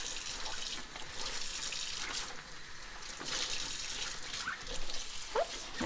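A sink tap runs continuously while a nut milk bag is rinsed after making hemp milk, the water gushing and splashing unevenly at moderate volume.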